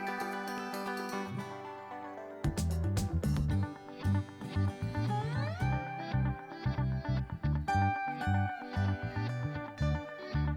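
A cat meows in a bright, gliding cry over a busy children's alphabet song, repeated several times and loud throughout.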